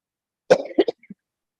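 One sharp cough bursts out, followed by a couple of smaller throaty catches, during a township council meeting in an otherwise quiet room.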